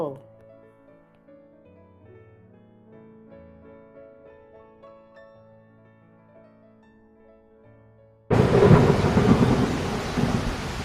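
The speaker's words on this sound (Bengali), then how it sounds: "বাড়ি থেকে বেরোতেই প্রবল বেগে ঝড় বৃষ্টি শুরু হয়েছে" Quiet melodic tones give way abruptly to a loud burst of thunder and heavy, hissing rain that continues to the end.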